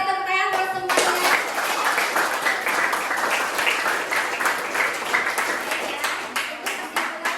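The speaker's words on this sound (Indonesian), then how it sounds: "beri tepuk tangan buat semuanya" A class of students breaks into sustained applause at the end of a biology lesson on cell parts, dense clapping filling the room for several seconds with faint voices mixed in.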